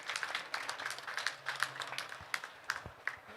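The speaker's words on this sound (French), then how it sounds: "Je pense qu'on peut applaudir et remercier nos 2 romancières." Scattered audience applause thanking two novelists after a talk on writing novels, light, uneven clapping from a modest crowd, fairly faint and irregular in rhythm.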